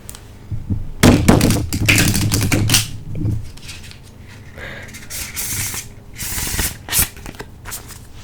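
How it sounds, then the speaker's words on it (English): Rapid papery riffling of oracle cards being shuffled, in several close bursts with brief pauses between, fairly loud, no voices. "I like to shuffle them fairly thoroughly"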